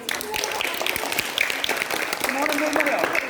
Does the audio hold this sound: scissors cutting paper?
no